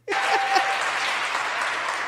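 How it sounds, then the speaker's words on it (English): A crowd breaks into loud, sustained applause that swells in and carries on steadily, dense clapping with a few scattered cheers mixed in. "And the crowd goes wild."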